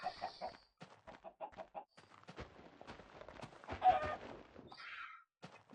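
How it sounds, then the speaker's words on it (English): Chickens in the Minecraft video game cluck in short, quiet bursts, scattered amid footsteps and other faint game sounds. "Oh, chicken."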